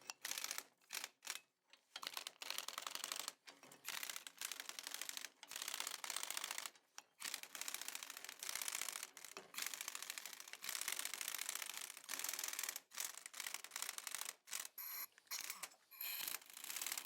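Spring compressors being undone a little at a time on the strut assembly of a 2008 Chevrolet Malibu, giving a run of rapid metallic ratcheting clicks in bursts with short pauses, close and fairly loud, with no talking.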